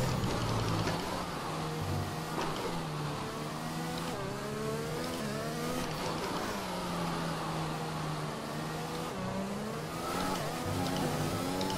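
A Formula 1 racing car in the F1 2021 video game runs continuously at high revs, its engine tone rising and falling sharply through gear changes and corners, steady and moderately loud.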